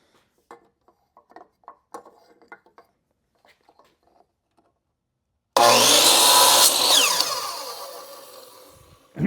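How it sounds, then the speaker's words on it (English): A miter saw cuts through wood for a small wooden cross, a loud, sustained burst that starts abruptly after a stretch of quiet handling noises, holds strong, then winds down toward the end. "Going back to the miter saw."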